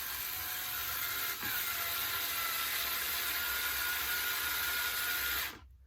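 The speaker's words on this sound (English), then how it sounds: "do the same procedure with the screws. Screw them in." A power drill drives screws into a staircase stand during assembly, a steady close whirring that runs almost continuously, dips briefly once, then cuts off.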